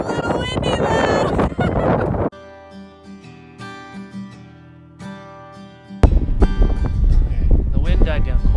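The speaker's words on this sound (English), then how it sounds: "It's a little windy though." Wind gusts buffet the microphone on a cold, rainy fall mountain hike within sight of Mount St. Helens, loud broadband rumble at the start and end with a calmer, quieter stretch in between.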